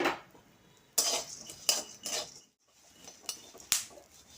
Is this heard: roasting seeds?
yes